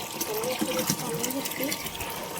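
Steady water pours into a machine, a continuous rushing fill with a faint voice speaking over it.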